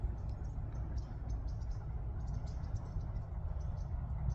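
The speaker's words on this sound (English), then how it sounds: "Sounds like frogs off in the distance." Frogs croak in the distance along a creek trail, a faint chirping chorus that pulses steadily above a low continuous rush of water.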